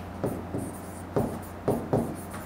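Marker or chalk strokes on a classroom board during an English grammar lesson, in a rhythmic series of short scratchy bursts, about four in quick succession, close and moderately loud with no talking.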